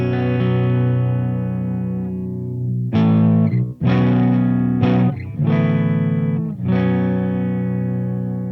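Distorted electric guitar through a Mesa Mark V amp in fat mode with a thick, heavy tone, strummed chords and picked notes ringing out, with short pauses between phrases, close and loud.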